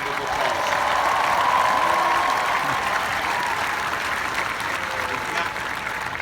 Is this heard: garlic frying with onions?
no